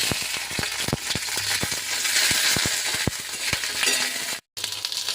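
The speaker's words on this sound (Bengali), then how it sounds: "এবার আমি ভেন্ডিগুলো ভেজে নেব।" Okra frying in a little oil in a wok, a continuous sizzle punctuated by regular sharp spatula scrapes and taps, moderately loud, with a brief cut near the end; no voices.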